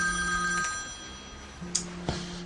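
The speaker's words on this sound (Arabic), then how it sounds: "خليه يجاوب في التليفون." A telephone rings indoors during a Moroccan film scene, with a steady electronic ring that pulses in two or three bursts at moderate volume and no talking over it.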